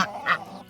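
Farm ducks at their water give a quick pair of nasal quacks, close and moderately loud, over in under a second.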